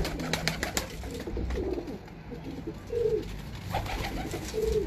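Breeder pigeons in a loft give low, rolling coos in short bursts, several calls overlapping at moderate volume against a quiet background.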